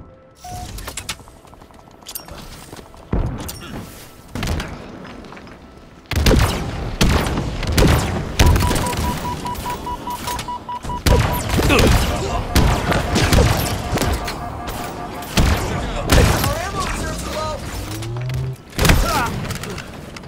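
Rapid bursts of weapon fire and explosions fill a Halo match, dense and loud throughout, with booms and thuds layered over a player talking.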